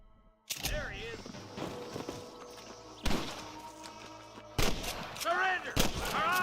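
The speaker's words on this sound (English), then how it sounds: "I can hear more gunshots." Gunfire in the Western game Red Dead Redemption: repeated loud gunshots crack out at uneven intervals, several close together, over a busy mix of in-game voices, horses and action.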